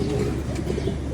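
Pigeons coo close by in a brief, soft, throaty burble that runs through the whole moment, with no speech over it.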